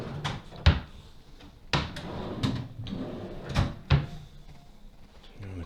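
Hotel room drawers at a Bahamas resort are opened and shut in several knocks and thuds spread across a few seconds, close by in a quiet room.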